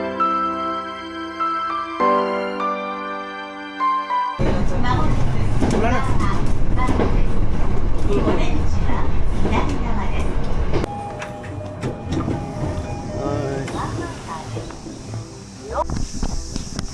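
A train pulls into a station in Japan with a loud, sustained rumble and clatter that fills the scene after a quieter opening, while people talk over it.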